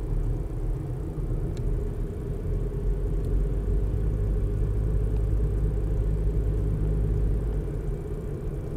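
A car drives along a snowy mountain road near Kamikochi in a mild winter, heard as a steady, continuous low engine and tyre rumble from inside the vehicle with no talking.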